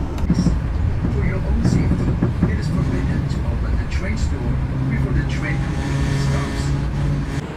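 Gumarang passenger train pulling into Karawang station at night, a low rumbling drone of wheels and engine with a sustained hum and occasional squeals, steady and close, with a voice speaking over it.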